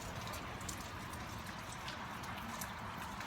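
Steady rain pours down in a dense, even hiss of drops striking surfaces, constant and close throughout with no voices.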